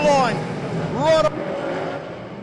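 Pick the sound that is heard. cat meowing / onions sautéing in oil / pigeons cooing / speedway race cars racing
speedway race cars racing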